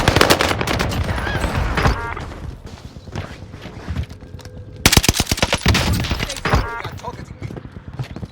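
Gunfire rattles in a battle royale video game, with bursts of rapid automatic shots, a quieter lull, then another loud sustained volley over game noise and talk.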